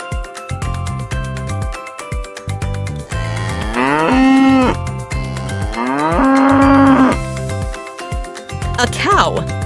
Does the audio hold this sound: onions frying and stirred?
no